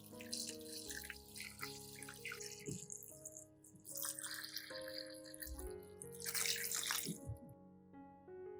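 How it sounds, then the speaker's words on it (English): Cold or room-temperature water poured over corn in a basin with a little salt, a gurgling, splashing flow in uneven bursts, close by and moderately loud, with soft tonal background music beneath. "Then pour cold or room temperature water over the corn."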